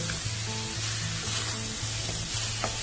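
Chicken kosha sizzles loudly in a little oil as it is sautéed, a dense continuous frying hiss with a faint low hum running underneath, close and steady throughout.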